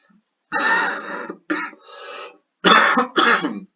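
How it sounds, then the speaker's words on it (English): Several harsh coughs in quick bursts, close and loud, separated by short pauses with a raspy breath between. "Please excuse this coughing."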